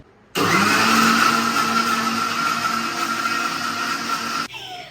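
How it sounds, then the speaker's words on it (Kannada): A mixer grinder whirs loudly, starting abruptly and running at a steady high-pitched drone for about four seconds before cutting off. "ಸೊ ನಮ್ಮೊಂಜಿ ಮಿಕ್ಸರ್ಗೆ ಪಾಡ್ದು ಎಡ್ಡೆಡೆ ಕಡೆಗ"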